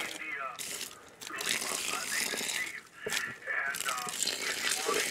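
Water is poured into a Worm Inn worm bin, a close, rushing splash that runs in bursts with short pauses.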